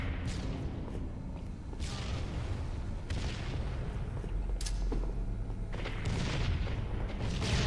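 Sniper fire and booming gunshots in a shooting video game crack out as sharp, separated reports among a dense rumble of ongoing battle noise, loud and close.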